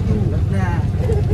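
Inside an auto rickshaw packed with five passengers, the engine drones with a low throbbing rumble while voices chatter over it, close and steady.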